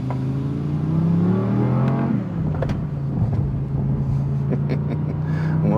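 Judd V10 race engine that revs to 10,000 rpm, revving up to a high wailing pitch, dipping, then holding a steady droning idle with sharp blips, loud and close, no voices.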